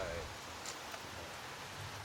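Steady rain falls outdoors as a soft, even hiss that runs through the whole stretch, with a faint voice briefly audible beneath the downpour.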